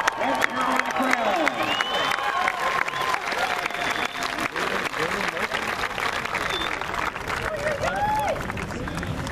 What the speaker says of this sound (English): Another big round of applause for the combined horn line.